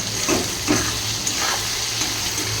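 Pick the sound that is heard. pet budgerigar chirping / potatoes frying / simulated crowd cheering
potatoes frying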